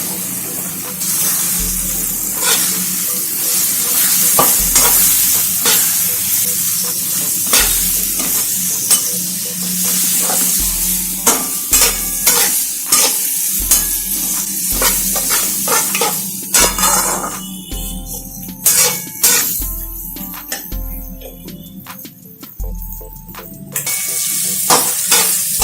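Long sliced onion sizzles steadily in a pan for a Rajasthani whole-onion curry, with a spoon scraping and stirring at intervals, producing repeated soft knocks against the pan over a constant hiss.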